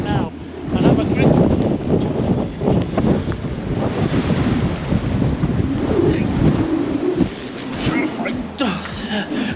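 Strong storm wind gusts and roars in Iceland, buffeting the microphone in a steady, rough rush for the whole stretch, with muffled voices faintly mixed in.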